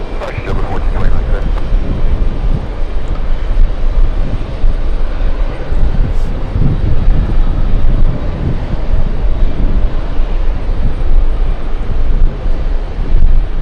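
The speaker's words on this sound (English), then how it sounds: "Air India is definitely heading to the runway for takeoff, lining up." Air India airliner taxiing toward the runway at JFK, a loud, steady low engine rumble with wind buffeting, while a voice talks over it near the start.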